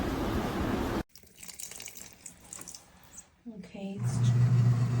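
Water runs into a Krib Bling full-automatic washing machine with a drain pump. A loud rush gives way to quieter trickling and splashing, then a low, steady filling hum, with some voice nearby.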